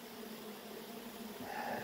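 Honey bees buzz steadily inside a crowded hive colony in a Michigan midwinter, a low continuous drone that swells slightly louder toward the end, with no voices.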